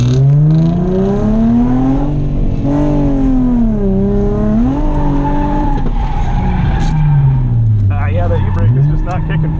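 A Nissan 350Z revs hard while drifting, its engine note rising and falling in long sweeps with tires squealing, loud and close throughout.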